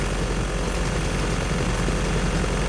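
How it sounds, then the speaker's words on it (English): Steady, loud whirring of a helicopter's rotors and engine in a video game, continuous throughout with no talk. "Just gotta kill the helicopter"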